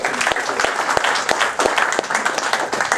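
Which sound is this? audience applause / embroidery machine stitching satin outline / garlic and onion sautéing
audience applause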